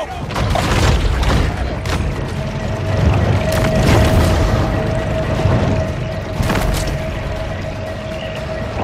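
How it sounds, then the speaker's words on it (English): A torpedo explosion in the video game Maneater, heard as a loud rumbling boom with heavy low-end impact, followed by further blasts and a sustained underwater din with a steady tone running through it. "Torpedo!"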